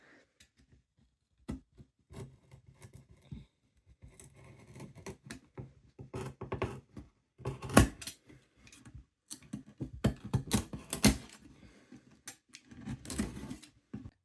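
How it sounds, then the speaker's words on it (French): Sandpaper worked by hand over a small decorative box being turned into a baptism urn, uneven bursts of gritty scratching and rubbing strokes, close and sparse at first, then denser and louder; no speech. "le reste, je vais le faire avec le papier à poncer"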